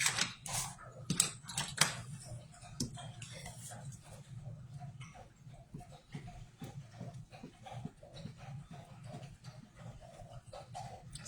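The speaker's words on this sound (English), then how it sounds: "Sorry if you can hear my dog." A dog laps water from its bowl with rapid, wet tongue flicks in a steady rhythm, fairly close, over a low background hum in a craft room.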